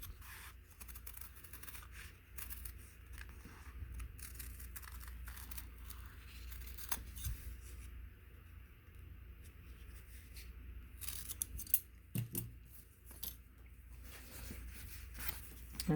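Scissors cutting through fabric backed with Heat and Bond adhesive, giving soft close snipping and crinkling at low level over a steady background hum, with a few crisper cuts near the end.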